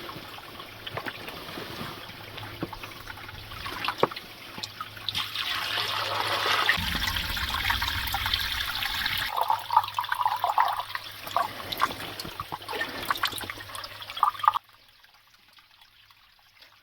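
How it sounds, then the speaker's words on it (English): Stream water is poured through a filtration bag into a bottle at a remote wild camp, a steady close gurgling trickle that swells for several seconds and then stops abruptly. "pour it through a filtration bag into my bottle"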